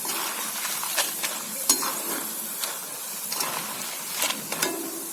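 Sliced cassava chips crackle and sizzle in hot oil, a steady bright hiss with scattered pops and an occasional scrape of a stirring spoon, and no voices.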